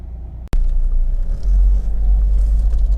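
A 2011 Volvo XC90 2.4 D5 R-Design diesel with Geartronic automatic and all-wheel drive on a road test. A short click is followed by a loud, steady low rumble of engine and road noise, heard close and with no talk.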